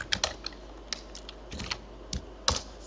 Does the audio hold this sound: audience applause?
no